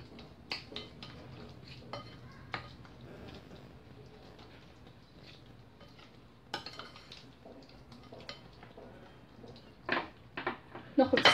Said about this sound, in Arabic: نحرك هاد الشرموله مزيان